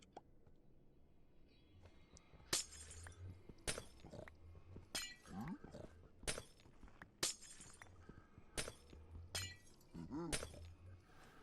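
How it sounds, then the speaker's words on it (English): Repeated sharp glassy shattering bursts from a block breaking in Minecraft, about eight separate crashes spread across the stretch over quiet game ambience. "I hate that it sounds like breaking glass when it does its thing"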